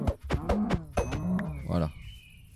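Cows in a Minecraft world (From The Fog mod) moo in several short, low, nearby calls, overlapping with faint game tones and a thin high whine.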